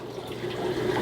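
Water from a Marineland Emperor Pro 450 aquarium filter flows and splashes in a steady, close rushing stream without breaks.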